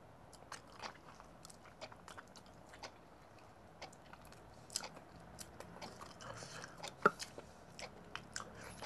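Close, crisp biting and chewing of a KFC flossy crunch fried chicken rib piece, with sharp crunches and crackles scattered through a quiet steady chew, one louder bite standing out near the end.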